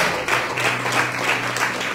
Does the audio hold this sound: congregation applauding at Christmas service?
yes